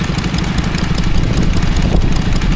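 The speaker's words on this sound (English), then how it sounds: "the engine in question looks to be another one of these Listers." A Lister Model D stationary engine runs at a spring country fair in Sussex, giving a loud, steady, continuous chugging drone that holds even throughout with no one talking.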